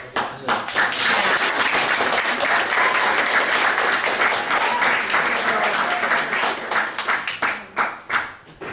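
Audience clapping at a city council meeting, a loud sustained round of applause from a large group that thins into scattered individual claps toward the end, with voices faintly underneath.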